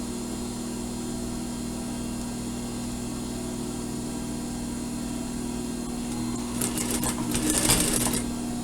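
Domestic sewing machine stitching fabric pieces for a surgical scrub cap, a steady close motor whir with a few faster rattling bursts near the end.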